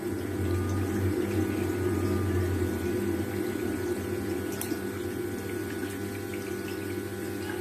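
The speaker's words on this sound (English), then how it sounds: "I'm just gonna turn on the hot water for that one." Water runs steadily from a hot tap during a service of a Potterton Promax Combi 24 HE boiler, with a constant close rushing hiss and a low hum underneath, unbroken and free of speech.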